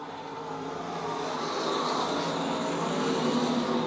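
USRA stock cars racing at Lakeside Speedway, a riverside dirt track, form a continuous broadband roar that swells slightly as the pack passes. No voices are heard.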